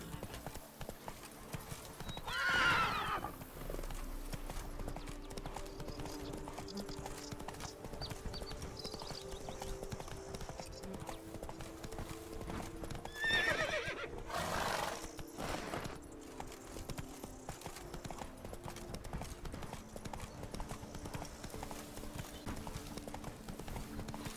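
Roach the horse trotting in The Witcher 3, a steady clip-clop of hooves close by over a low ambient bed, with no talk, and two brief louder swells.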